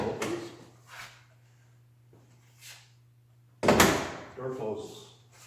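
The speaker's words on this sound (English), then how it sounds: "Door opens." A door on a 1930 Ford Model A hot rod swings open with a metallic clunk and latch noise, loud and close, after a softer earlier sound, over a steady low hum in a workshop.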